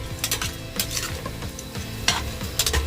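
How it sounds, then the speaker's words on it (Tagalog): Shrimp paste sautéing in a pan, a continuous sizzle with repeated rhythmic scrapes and light metallic clinks of a spatula stirring, close and moderately loud with no voices. "so igigisa muna natin sa bagoong, guys"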